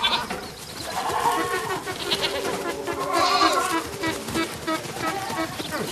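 Village herdsmen's goats bleat repeatedly in the bush near the Leopard Rocks, several overlapping calls at moderate distance over a busy outdoor background.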